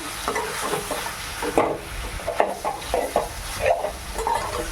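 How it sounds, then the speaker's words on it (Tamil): Spice powders and salt sizzling as they are stirred in a pan for Tamil-style chicken kuzhambu, with steady frying crackle and repeated scraping strokes of a spoon against the pan, close and fairly loud, no talking. "தூள் உப்பு, இதெல்லாம் போட்டு நல்லா வதக்கிக்கலாம்."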